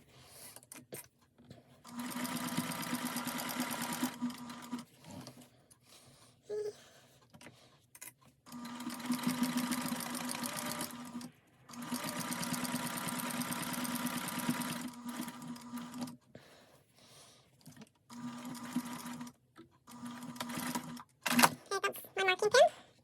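A sewing machine runs a quarter-inch seam through denim and terry cloth, stitching in several steady bursts of a few seconds each, separated by pauses, with clicks and handling noise near the end.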